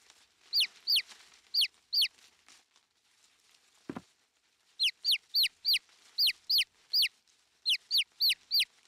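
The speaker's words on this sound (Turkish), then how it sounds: "Civciv'in ayağına bir şey olmuş." A small chick gives repeated high, thin chirps in quick pairs and short bursts, close and clear, with a brief low thump partway through and a quiet room between calls.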